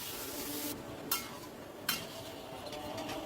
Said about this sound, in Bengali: মিনিট 3 বাদে ঢাকা তুলে আবারও সব কিছু ভালো করে মিশিয়ে দিচ্ছি।